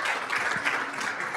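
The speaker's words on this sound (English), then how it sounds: "let's give Paul and Darren just a quick round of applause." A short burst of steady applause from an audience at a talk, fairly close and continuous throughout.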